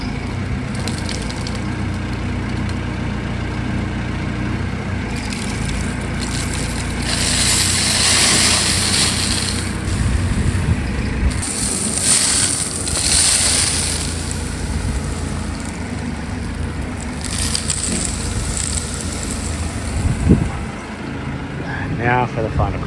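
A heavy earth-moving machine rumbles and churns steadily while pushing dirt back into a hole over a buried pipe at a château, with engine drone and scraping surges throughout and someone talking over it.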